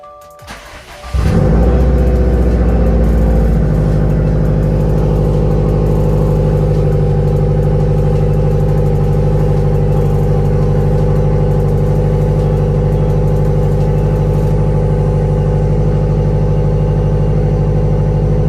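A 2018 Subaru WRX STI fitted with a Cobb Accessport cranks briefly, catches and roars to life, then settles into a loud, steady idle with a constant low rumble for the rest of the stretch.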